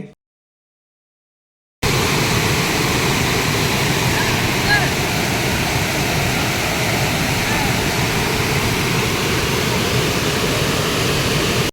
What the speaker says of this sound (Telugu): న్యాచురల్గా వాటర్ ఫాల్స్ నుంచి వచ్చే సౌండ్ అంటే నాకు చాలా ఇష్టం, చాలా బాగుంటుంది